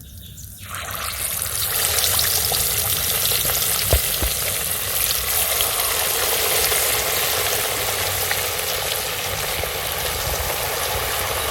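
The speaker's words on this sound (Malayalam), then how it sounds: "ഇനി നമുക്ക് ഓരോ മീനായിട്ട് ഇതിലേക്ക് ഇട്ട് കൊടുത്തു." Small stream fish frying in hot oil in a pan, a loud continuous crackling sizzle that stays steady throughout after a brief quiet start.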